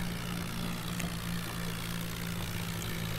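A tractor engine drones steadily while ploughing a field in a mobile farming game, a constant low, loud hum with no breaks and no voices over it.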